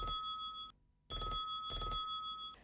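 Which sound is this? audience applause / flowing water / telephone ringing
telephone ringing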